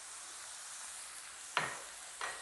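Corn cooking in a pan for samosa filling gives a soft, steady sizzle throughout, with two brief louder bursts near the end as fresh mint is tossed in.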